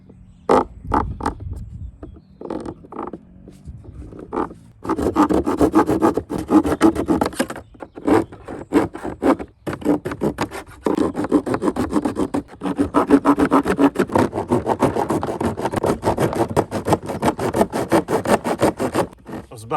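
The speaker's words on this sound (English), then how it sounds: "So a plasterboard saw, I know it's not really the tool for the job, but let's wing it" A plasterboard saw hacks through a car body panel taken from a donor Honda Aerodeck, giving loud, rapid rasping strokes in irregular bursts after a few hesitant starts.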